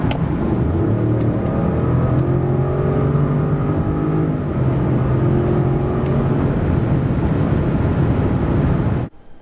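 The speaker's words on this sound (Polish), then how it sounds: "Oraz tak od 90 do 140 km na godzinę." A 2022 Range Rover's 4.4-litre V8 petrol engine drones and climbs in pitch as the SUV speeds up from 90 to 140 km/h, with steady road and wind noise before cutting off.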